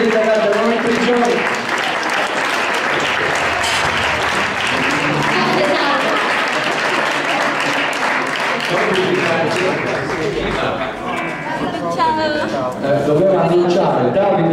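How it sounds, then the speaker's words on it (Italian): Outdoor crowd at an Italian political rally applauds lawyers, dense sustained clapping mixed with crowd noise and talk underneath, steady and loud throughout. "Facciamo prendere un grande applauso ai nostri avvocati"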